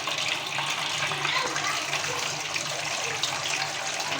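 Water drained from boiled rice pours and gushes steadily, splashing close by without a break, loud and continuous with no voices.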